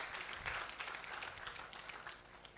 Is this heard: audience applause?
yes